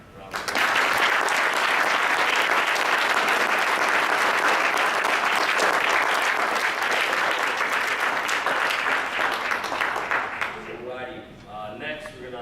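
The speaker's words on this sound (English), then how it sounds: "So can we give these young men a round of applause?" An audience applauds a group of young athletes at a sports recognition event, with dense, sustained clapping for about ten seconds that fades out toward the end.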